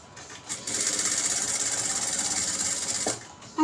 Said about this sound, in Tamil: இது நகர்ந்து போயிடும்ன்றதுக்காக சுற்றி வர ஒரு தையல்.